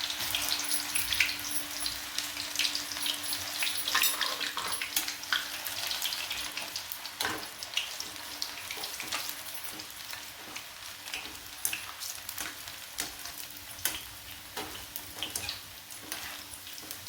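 Banana slices fry in hot oil for chips, a dense, steady crackling sizzle close by, with occasional sharper pops and stirring clinks, and no voices.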